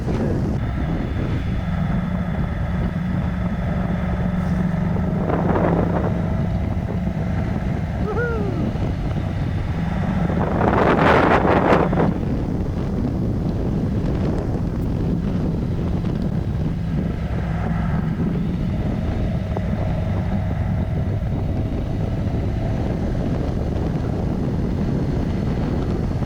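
Strong wind buffets the microphone continuously on a Honda NC700X or CTX700 motorcycle ride near Kanab, a steady loud rumble with a brief louder gust midway and no talk.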